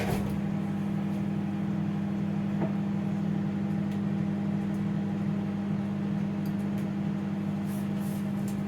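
A Russell Hobbs compact grey manual microwave runs with a steady electric hum and a whirring fan, continuous and close, with faint clicks.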